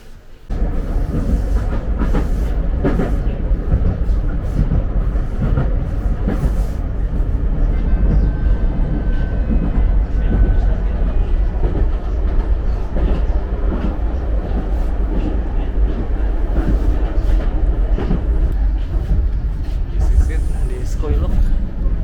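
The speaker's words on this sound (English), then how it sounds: "Here's the train." A train rumbles steadily past nearby, a continuous loud low roar with faint rattling and a brief squeal, with voices talking over it.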